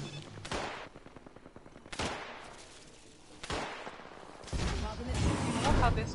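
Bursts of automatic gunfire in the battle-royale shooter Apex Legends, several sharp volleys of rapid shots spread over a few seconds alongside in-game action noise.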